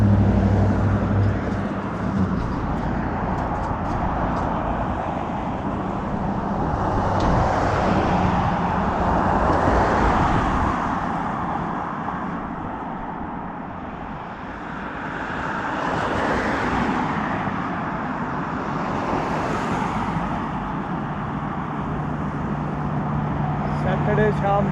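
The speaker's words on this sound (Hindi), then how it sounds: "बीच में इकल्ली गाड़ियाँ आ रही है तो कितना शोर मचा रही है।" Road traffic passes on a quiet evening street in Canada, with cars swelling and fading in long whooshing waves over steady background noise while a person talks.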